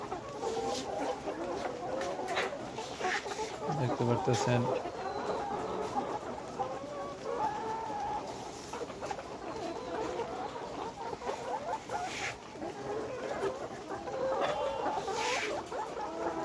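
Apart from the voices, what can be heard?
Nourish Sebaster cross layer hens clucking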